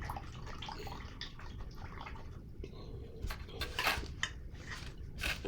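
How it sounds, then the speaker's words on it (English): A paintbrush swished and rinsed in a water cup during an acrylic painting session, giving soft watery splashes and drips that grow a little louder toward the end, heard fairly close and without talk. "wash my brush"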